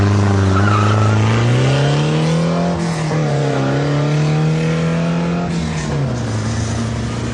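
Ford Cortina drag racing car at Santa Pod in 1977, a loud engine winding up through rising gear pulls, dipping at each shift and then fading as the car runs away down the strip.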